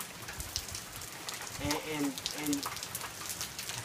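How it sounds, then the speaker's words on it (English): Steady rain pours outdoors, a dense hiss of drops on surfaces throughout, with a voice speaking briefly over it. "It's pretty much pouring now."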